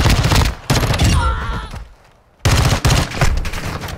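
Rapid, loud pistol fire with a 50-round magazine in a Call of Duty video game, in dense bursts broken by a short quiet gap with a brief tonal effect before the firing resumes.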